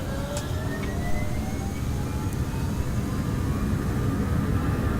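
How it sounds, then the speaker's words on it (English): Jet aircraft engine starting up in the video game Arma 3, a broad steady roar with faint rising whine tones layered on top, continuous and unbroken with no voices. "I'm going to turn the engine on."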